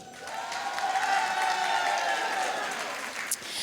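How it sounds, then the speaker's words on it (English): An audience at a senior comedy show in East Chicago gives a sustained round of applause, with dense, continuous clapping and crowd noise that stays loud and even throughout. "let me hear you by a round of applause"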